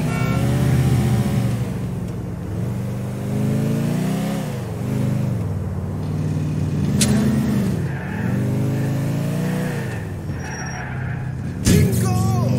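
A car in a GTA IV chase revs hard through repeated rising and falling engine sweeps, loud and close, with gear changes and a sharp clatter near the end, and no voices.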